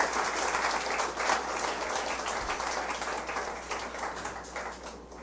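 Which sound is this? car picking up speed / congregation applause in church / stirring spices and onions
congregation applause in church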